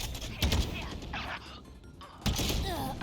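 Gunfire in a shooter video game: quick bursts of shots and thumps crack out in two clusters, separated by a quieter stretch, while someone talks over the action.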